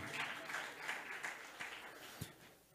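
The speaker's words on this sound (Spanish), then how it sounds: "den un aplauso fuerte al Señor en esta preciosa hora" Faint applause from a church congregation, a steady patter of clapping that thins out toward the end.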